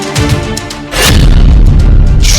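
A sharp, heavy boom hits and rings out, preceded by a few softer cracks, as gunshots strike a bulletproof jacket up close during testing.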